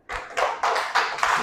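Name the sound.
class applauding a student group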